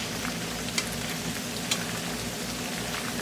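Ginger, garlic and green chilies fry in oil with a continuous, moderately soft sizzle and a couple of faint crackling pops.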